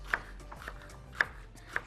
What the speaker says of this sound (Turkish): Birazcık böyle julien tarzı doğrayacağım. Yarım ay şeklinde.